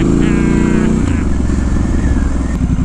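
A Triumph Scrambler 1200 XE engine rumbling loud and close while ridden off-road, its steady throb rising briefly early on and then settling, mixed with wind buffeting.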